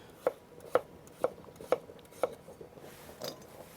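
A knife cuts radishes into fairly big slices with five crisp, evenly spaced chops about half a second apart, close and clear with no talk, then a softer scrape at the end.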